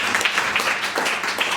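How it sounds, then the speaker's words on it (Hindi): An audience at a motivational talk claps briefly, a short patch of scattered, moderately loud hand claps in a hall. "आप ताली बजा दो इसके लिए।"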